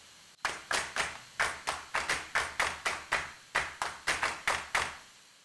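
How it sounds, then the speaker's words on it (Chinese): A clap sample triggered by finger drumming on a Launchpad X, seventeen crisp, dry claps played in a fairly even, quick pattern with a short pause partway through, close and alone. "拍手。"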